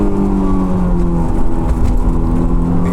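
A Honda S2000 AP1 engine blips and revs during a smooth heel-toe downshift on a drive, a steady close, loud motor drone with harmonic whine running throughout, no talking.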